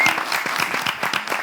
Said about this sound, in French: Alors, applaudissez d'abord pour moi.